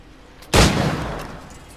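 Single pistol headshot in the video game Assassin's Creed IV Black Flag, one loud sudden blast followed by a decaying rumble over quiet background.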